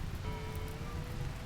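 Steady rain patters in a RimWorld colony, a soft, even hiss of drops falling on the ground at low volume, continuous and without any talking.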